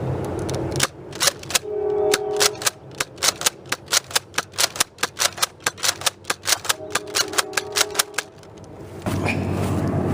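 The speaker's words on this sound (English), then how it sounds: "5 shots of AccuStrike, followed up in rapid succession with 5 shots of the Ray Squad darts." Ten foam dart shots from a Nerf blaster, five AccuStrike darts then five Ray Squad darts fired in quick succession, each a sharp pop with a click; a steady volley of close, loud repeated bursts with a quiet gap between the two sets.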